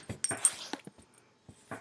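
A dog whimpers and yips in short, soft bursts close by, several brief whines with pauses in between in a quiet indoor setting.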